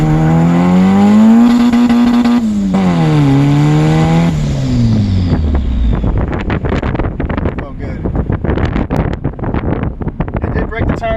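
Honda D-series engine in a car held at about 5,000 RPM on launch control, a loud steady drone that stutters, then the tyres spin up as the car launches into rough, choppy acceleration under heavy wind buffeting.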